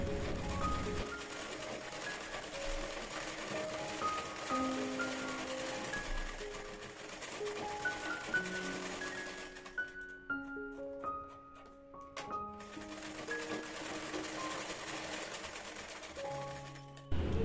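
A sewing machine stitches blouse fabric in quick rhythmic bursts of whirring, pausing briefly midway before running again, close and fairly quiet, with no speech.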